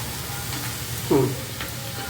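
A pan of mixed leafy greens (spinach, amaranth and fenugreek leaves) fries with a soft, steady sizzle, broken once by a brief scrape of stirring, close by with no talking.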